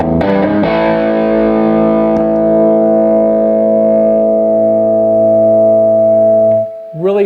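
A fuzzy, distorted electric guitar chord through a Fuzz Face-style fuzz circuit rings out loud and sustains for several seconds before a new note cuts in at the end.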